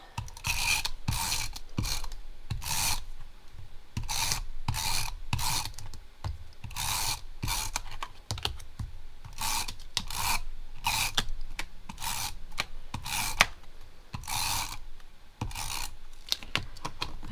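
A tape runner laying adhesive tape onto card, giving a long run of rapid raspy ratcheting bursts, close and fairly loud, with brief gaps between strokes.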